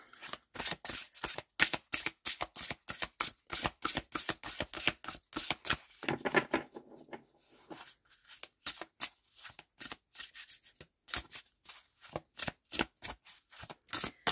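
Tarot cards are shuffled in a rapid run of crisp, riffling flutters, close and fairly loud, with a brief softer pause midway before the shuffling resumes; no one speaks.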